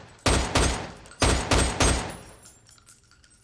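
Five or six loud gunshots from a handgun ring out in two quick bursts, each sharp crack ringing briefly before fading, with faint trailing sounds after.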